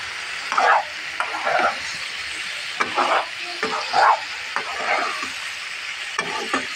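A bhaji of beans, cauliflower and potato fries in a pan, with steady soft sizzling under repeated stirring scrapes and spoon knocks at irregular intervals.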